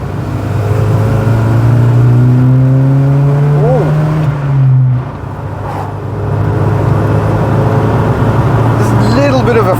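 A modified Volvo 240 engine revs up hard and pulls away, its note climbing steadily and loud from inside the car, then dropping at a gear change before building again.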